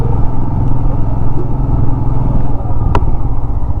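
A motorcycle engine hums loudly and steadily during a ride toward Darjeeling, with road rumble and a brief sharp clack near the end.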